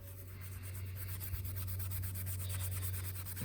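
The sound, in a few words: scrubbing generator intake valve with Scotch-Brite pad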